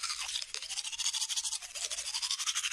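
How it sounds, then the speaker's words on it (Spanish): Electric toothbrush buzzing steadily and close up, with a pulsing high whir that dips briefly early on and then returns, heard alone in a household setting. "Sí, es un cepillo de dientes."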